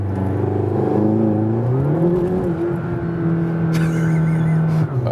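A McLaren GT engine hums steadily from inside the cabin during city driving, pitch rising and settling as it shifts gears, with a brief brighter rustle near the end.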